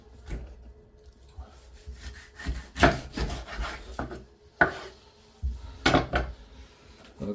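A knife works through a cleaned salmon on a board, cutting it into pieces with a series of close, rasping strokes and firm knocks as the blade meets wood.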